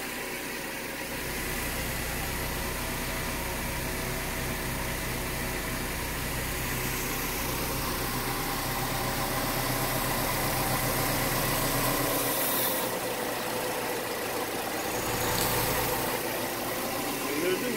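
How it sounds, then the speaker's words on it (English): A car engine idles steadily after its intake valves were cleaned with water, a smooth, even rumble heard close up, with a brief louder swell in the middle and no voices over it. "You get a nice smooth idle."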